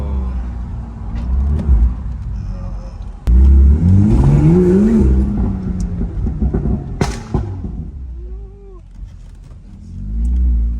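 A BMW M2 engine revs hard and roars past nearby, with a rising pitch sweep, then fades as another engine rumbles in the background.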